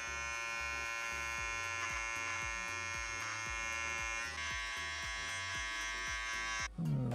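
An electric trimmer buzzes steadily close up while cutting a beard and mustache, its pitch dipping in regular pulses as it passes over the hair, then cutting off near the end.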